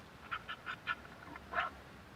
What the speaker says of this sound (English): let's listen to a real sound of a dog